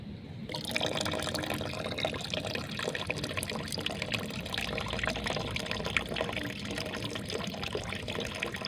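Water from a bottle pours into a dish for a pigeon, a continuous close splashing trickle that runs steadily for several seconds with no pauses.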